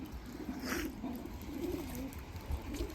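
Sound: male Arabian crested pigeon

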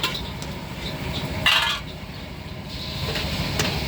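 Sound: continuous stir-frying in a pan at a yam stall

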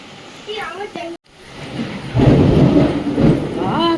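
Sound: thunderstorm with heavy rain and lightning

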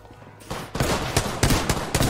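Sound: gunfire in Apex Legends video game

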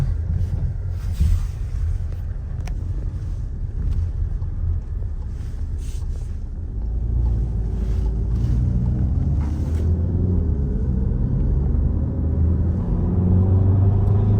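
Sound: Skoda Octavia A7 2.0 TDI driving on road

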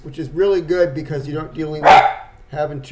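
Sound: dog barking

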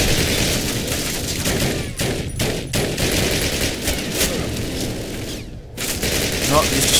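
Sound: gunfire in a video game

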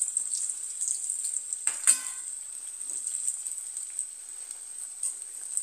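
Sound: susiyam frying in hot oil

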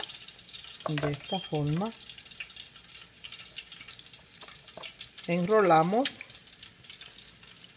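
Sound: ham frying in a pan

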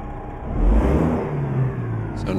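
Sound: Kenworth T800 truck engine revving in American Truck Simulator video game

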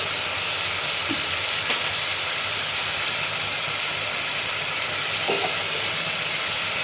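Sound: ginger paste sizzling as it is added to the pan

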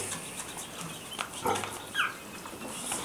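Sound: Vietnamese pigs and piglets

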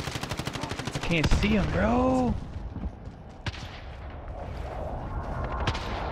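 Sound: gunfire in video game Call of Duty Warzone

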